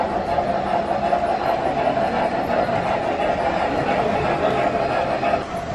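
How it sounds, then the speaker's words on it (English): An old metal toy train set runs among retro toys, giving a steady, continuous rumbling whir at close range that holds an even level throughout with no pauses. "Here comes a train going by now."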